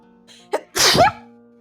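A single sharp sneeze, preceded by a quick inhale, loud and close with no talking.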